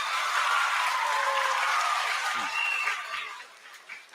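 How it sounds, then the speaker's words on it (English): A concert audience applauds a 21st-century chamber orchestra, with steady dense clapping that thins and fades away over the last second. "Give them a round of applause, everybody."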